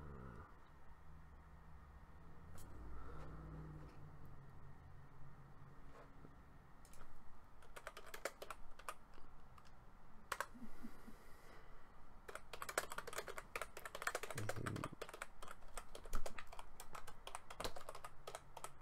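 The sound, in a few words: computer keyboard clacking while typing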